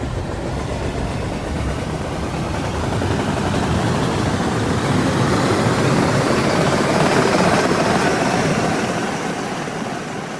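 JR Transit passenger train in the RO-Scale Sandbox video game, heard from inside the coaches: a steady, loud, broadband rumble and roar that swells slightly midway and holds continuously with no talk.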